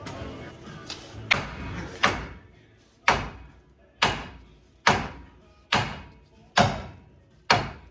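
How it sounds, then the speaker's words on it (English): Repeated heavy metallic hammer blows on a Chevrolet Silverado steering knuckle to loosen the lower ball joint, about nine sharp strikes spaced roughly a second apart, each ringing briefly before the next. "take a hammer and hit right up here at the top of the knuckle"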